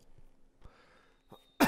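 A person playing a Magic: The Gathering card game in a quiet room gives one short, loud cough at the very end, after near silence broken only by faint small noises.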